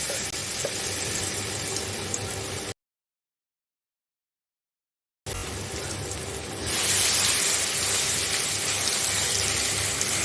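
Coarsely ground green chilli thecha, pounded on a grinding stone, dropped into three tablespoons of hot oil: a steady sizzle, then a louder, brighter hiss after a silent gap, continuing close and unbroken.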